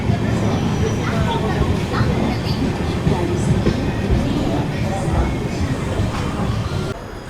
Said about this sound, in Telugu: మన ట్రైన్ 12:04 అయితే వచ్చింది